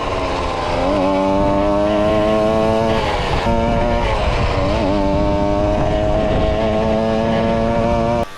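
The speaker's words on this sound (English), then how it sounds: "The engine starts to struggle around 35 miles per hour in like 5th gear" A cheap bolt-on gas engine drives a geared bicycle, a loud, continuous buzzing drone close up that climbs and dips in pitch as it shifts through the gears and strains near top speed, with no talk.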